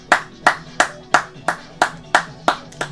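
Hand clapping, a steady series of about nine sharp claps evenly spaced roughly a third of a second apart, close and clear with no other sound competing.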